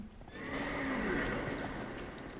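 Horse neighing from the chariot demon in the video game Dark Souls 2, a single drawn-out whinny over clip-clopping hooves, moderately close and free of talk.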